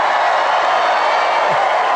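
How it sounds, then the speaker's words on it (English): A large crowd at an outdoor campaign rally in Greensboro, North Carolina, keeps up a loud, continuous roar of cheering and shouting from all around. "What a nice crowd this is."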